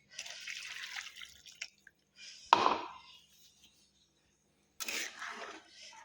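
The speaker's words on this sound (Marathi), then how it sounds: "आता हे वाटणाचं पाणी ना ह्यातमध्येच वतायचं" Water from a ground spice paste is poured into a pot in a couple of short splashing bursts, separated by quiet pauses.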